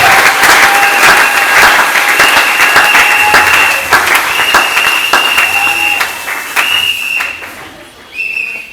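A church congregation applauds and cheers for God in loud, sustained clapping, with sharp whistles and shouts rising over it before the applause thins out near the end.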